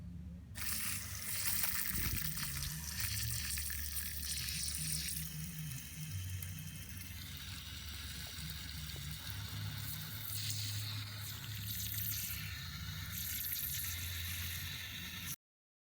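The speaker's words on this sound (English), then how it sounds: "I'm just blasting some water underneath the sill protector, and you can see all the grime coming out from underneath it" A steady spray of water blasting under the sill protector of a Renault Megane, a continuous hiss and splatter close by with a constant low pump hum beneath it.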